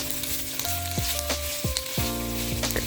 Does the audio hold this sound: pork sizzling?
yes